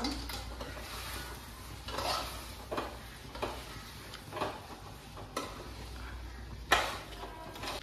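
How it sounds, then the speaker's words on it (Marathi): Chicken rassa curry with a few spoons of ground masala paste is stirred in a pot, a series of close scraping strokes of the spoon against the metal at an uneven rhythm over a low background hiss, with no talk. "आता तो आपण मिक्स करून घेऊ."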